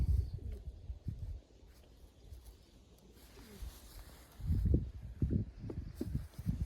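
Low, soft cooing of Janssen De Klak pigeons, several murmuring calls close by, with some rustling and shuffling between them.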